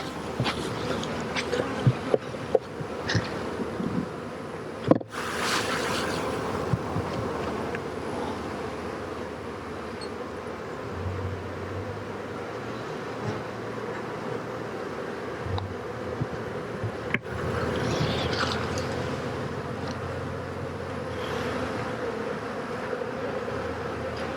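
A swarm of honey bees being caught and moved on a homestead hums in a continuous, dense buzz, with occasional clicks and light handling noises throughout.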